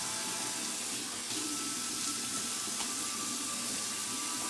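Warm tap water runs steadily into a sink for face washing, a continuous broadband splashing hiss with no talking over it.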